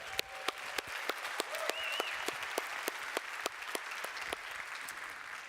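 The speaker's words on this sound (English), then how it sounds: "I need some applause." Audience at the Kauffman Fellows Reunion Summit in Kansas City applauds steadily, a dense wash of clapping with a few sharp individual claps standing out, moderately loud and continuous throughout.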